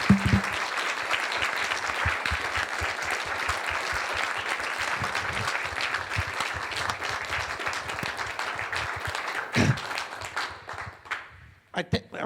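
An audience gives Holocaust survivor David Tuck a round of applause, with loud, sustained clapping from many hands that runs for about ten seconds, then thins and trails off, with a few scattered claps at the end.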